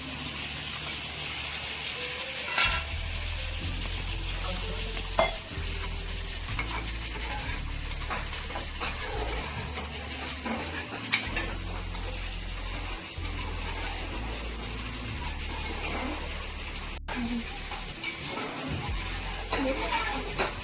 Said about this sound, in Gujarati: આપણે આ રીતે જીરામાં ભાતને વઘારી નાખ્યા છે, એનો વઘાર કરી લીધો છે